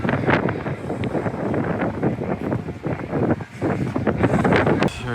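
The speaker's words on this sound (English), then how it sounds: "Super windy out." Strong wind buffeting the microphone outdoors at a harbor in Hamilton, Bermuda, loud gusty rumbles rising and falling continuously, with faint boat or water sounds beneath and no one speaking.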